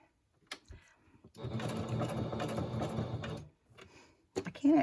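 A sewing machine stitches decorations onto an Easter gift tag, running in one steady two-second burst of rapid needle clatter, close up, bracketed by quieter handling noises.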